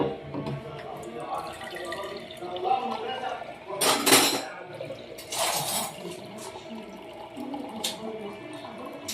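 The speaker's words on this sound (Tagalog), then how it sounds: "Lagyan natin ng tubig dyan." Tap water runs into a dish in a home kitchen amid clattering plates and cutlery, with a couple of louder splashing bursts; someone talks nearby at times.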